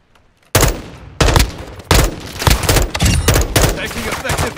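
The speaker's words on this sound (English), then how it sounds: "Taking effective fire." Loud bursts of automatic gunfire in Call of Duty Warzone 2.0 (Modern Warfare 2), several sharp volleys in quick succession with near, heavy cracks and a brief pause between the opening bursts.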